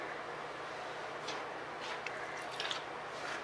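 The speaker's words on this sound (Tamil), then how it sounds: "கொஞ்சம் கொஞ்சமா தண்ணி சேர்த்து பிசைஞ்சா போதும்." Vegetable roll dough being kneaded by hand as water is added little by little, giving faint, soft wet squishes and small sticky pats close by in a quiet room.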